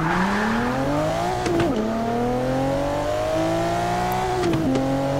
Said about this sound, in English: I'm gonna rev it up and drop the clutch.